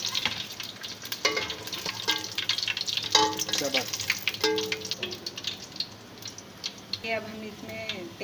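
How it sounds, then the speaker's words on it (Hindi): Black peppercorns, cinnamon pieces, a black cardamom and cloves sizzle in hot mustard oil with steady crackling and stirring. Someone talks over the frying throughout. "अब हम इसमें तेल में डालें हैं 5-6 हमने काली मिर्चें लिए, 2 दालचीनी का टुकड़ा, 1 इलायची बड़ी, और 4 हमने लौंगे लिए"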